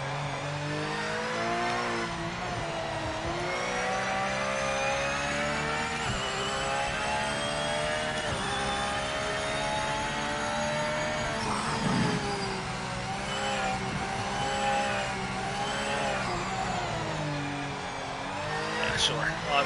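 A Porsche GT3 engine held on throttle in a racing video game, a loud sustained howl rising and falling through gear changes, with occasional tire noise and a voice talking over it.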